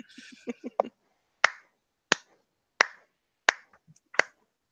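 A few quick soft sounds come first, then five sharp, isolated hand claps land at a slow, even pace of about one per second in a quiet room.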